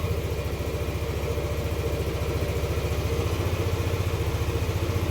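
A Yamaha Aerox 155 scooter engine idles close by with a fast, even putter after magneto cleaning, running steadily throughout without any talking.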